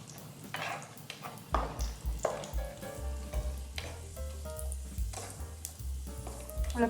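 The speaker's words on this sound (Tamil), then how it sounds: "நல்லா ப்ரௌனிஷாக வர வரைக்கும் ஃப்ரை பண்ணிக்கணும்" Raisins frying in hot ghee for carrot halwa, a steady close sizzle with stirring scrapes and occasional light metallic pings from the pan.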